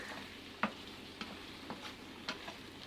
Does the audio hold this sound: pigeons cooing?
no